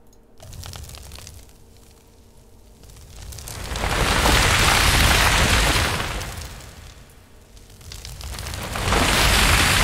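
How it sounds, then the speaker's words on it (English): Granular synthesizer in Unreal Engine 4 producing a dense, crackling, noisy texture that swells and fades in long waves, rising loud around the middle and again at the end, with no voices. "the granular synth basically can sound like this"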